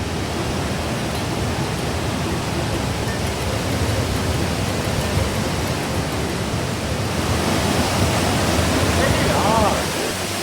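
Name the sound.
raging Khani waterfall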